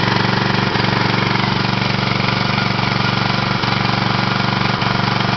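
A mobile fire suppression pump's engine runs at a steady idle, a loud, continuous mid-pitched drone with a faint periodic knock every second or so, close by and with no talk.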